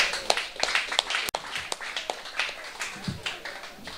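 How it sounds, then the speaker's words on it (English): Scattered applause from a theatre audience at the symphony re-opening of a refurbished pan theatre, light and uneven claps with sharp separate hits, one loud clap standing out, thin and moderately close. "Kids, give yourselves a round of applause"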